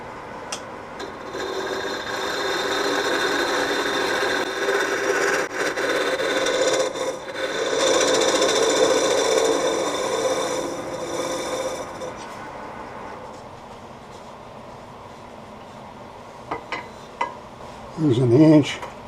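A new gouge shapes a wooden window blind pull on a lathe, giving a steady scraping rasp for about twelve seconds that then fades to a quieter hiss, with a few light knocks near the end.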